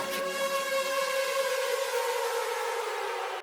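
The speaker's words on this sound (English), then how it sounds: "Going into the second drop, I add this little siren thing." A synthesized siren effect from a Serum preset rises in a steady electronic wail within a song's build into the second drop, sounding alone and clear before cutting off.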